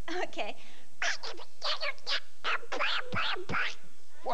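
A man performs a Donald Duck voice imitation on a game show stage, a run of raspy, quacking cartoon-duck syllables in quick bursts, close and fairly loud, with no ordinary talk around it.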